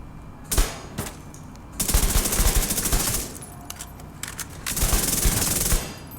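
A Vector submachine gun in a video game firing at a very high cyclic rate, with several short bursts and a couple of longer sustained strings, loud and close with brief pauses between.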